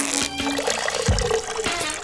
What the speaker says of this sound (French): prenons une douche relaxante